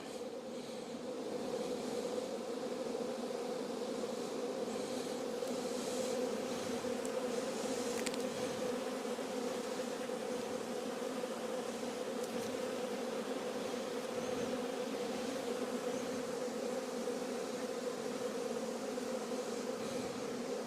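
Honeybees buzzing around an open hive frame of brood during an inspection, a steady, close, continuous drone of many bees with slight swells in loudness and no talking.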